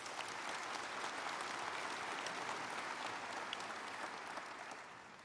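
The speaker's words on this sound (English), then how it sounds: "Give her a round of applause." An audience at a Conservative Party leadership hustings in Cheltenham claps continuously, a dense, even wash of applause that holds steady and then tapers slightly at the end.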